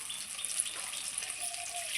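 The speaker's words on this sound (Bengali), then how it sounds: "একটু জল দিয়ে দিলাম।" A little water poured into a pan of potol posto with poppy seed paste and chillies, a short soft splashing trickle that stays fairly quiet.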